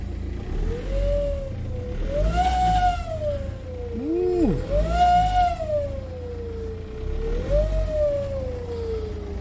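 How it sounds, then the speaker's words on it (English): A BMW M Sport car with a broken turbo gives off a loud, wavering whistle-like whine that rises and falls over a steady engine rumble, sounding close, with no talking. "That is a turbo."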